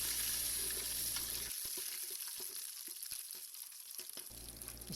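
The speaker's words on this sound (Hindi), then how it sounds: "अब घी में सब्ज़ मिर्च और लहसुन डाल के" Green chilies and garlic sizzle in hot ghee, a steady close crackling hiss with scattered pops and the occasional scrape of stirring. No voices are heard.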